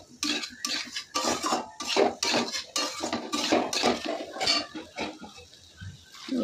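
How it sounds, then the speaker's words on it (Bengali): Jackfruit and prawns stirred in a pan, a utensil scraping and clattering against the metal in dense, repeated strokes, close and fairly loud, with brief pauses between bursts. "নেড়ে চেড়ে নেব বেশ কয়েকবার"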